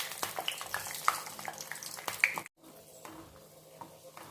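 Cashews dropped into hot ghee already holding cloves and cinnamon, giving a steady close sizzle and crackle with a few sharper pops, cutting off briefly before a quieter, softer frying hiss resumes.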